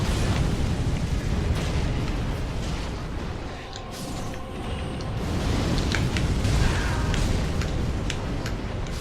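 Dragon fire breath in Dark Souls III, a sustained roaring rumble of flame with scattered crackles and bursts, loud and continuous with a brief dip midway before swelling again.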